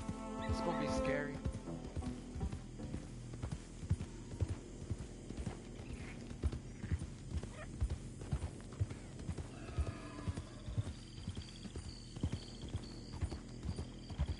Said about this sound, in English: When it trots like that, it's so graceful.